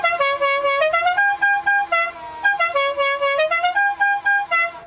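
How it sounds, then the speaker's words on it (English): A custom Dixie horn on a lifted six-passenger golf cart plays its bright melodic tune close up, a run of quick musical honks that rise and fall in pitch for about five seconds. "we got a custom horn here, a Dixie horn."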